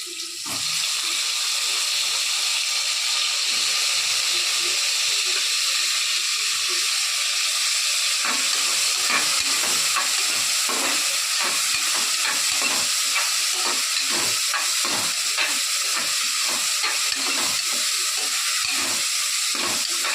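Eggplant frying in a pan for a tamarind curry with field beans: steady sizzle and steam hiss throughout, with repeated soft stirring scrapes and clinks in the second half, no talk.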